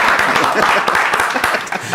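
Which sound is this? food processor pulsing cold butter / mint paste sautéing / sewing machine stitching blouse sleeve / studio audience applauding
studio audience applauding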